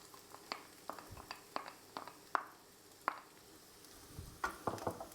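Onions fry in a pan with a quiet sizzle, broken by scattered clicks and scrapes at irregular intervals that cluster near the end, with no one talking.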